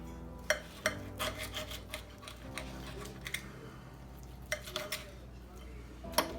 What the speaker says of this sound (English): Let's cut into it and see what it looks like.